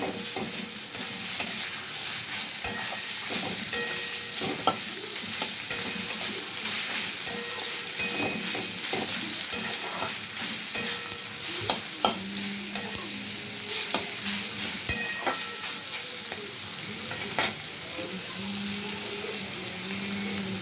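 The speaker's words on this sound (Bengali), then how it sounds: "গাজর আর ক্যাপসিকাম দিয়েছি, একটু নেড়ে নিই।" Carrots and capsicum sizzle steadily in a frying pan while being stirred, with scraping strokes and soft clinks over a constant close crackle and no talking.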